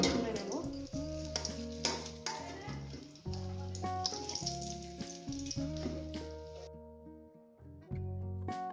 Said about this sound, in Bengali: আলুগুলো ভুনে নেব